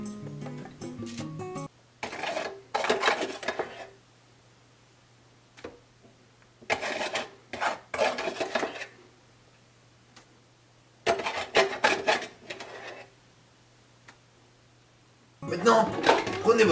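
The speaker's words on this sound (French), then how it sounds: "ouvrez votre boîte de café et mettez exactement 4 cuillères dans votre filtre" A tablespoon scoops ground coffee from a tin into a coffee maker filter, giving several separate bursts of dry scraping and rustling with quiet pauses between them and no voices.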